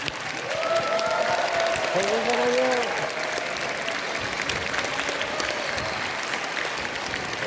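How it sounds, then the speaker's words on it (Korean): Warm, sustained applause from a theater audience at the curtain call of a Korean history musical, dense clapping filling the hall with a few voices calling out over it. "박수가 너무 뜨거워서 그냥 돌발이 모르겠습니다."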